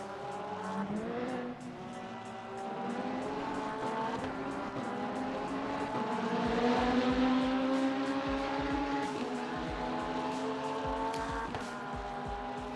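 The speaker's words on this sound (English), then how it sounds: "Hypercar behind you." A Le Mans Ultimate hypercar racing car closes in and passes with a rising, high-revving engine whine at Interlagos, pitch sliding as it approaches, over steady car noise and light tire squeal.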